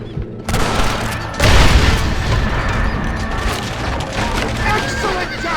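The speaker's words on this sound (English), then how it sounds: "Shoot the dynamite in the back!" Dynamite explodes in the Western video game Red Dead Redemption: a single heavy, close boom erupts after a moment of gunfire, followed by a lingering rumble with crackling debris and clattering wood.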